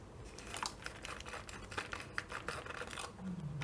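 Hands break open a 3M respirator filter, producing quiet, close crinkling, scratching and snapping of plastic and filter material in short irregular bursts.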